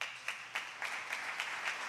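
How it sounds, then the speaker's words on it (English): Faint, sparse applause from a small audience, a handful of claps landing in a loose, roughly even rhythm, distant and thin rather than a full crowd ovation. "So I want to give you a round of applause for"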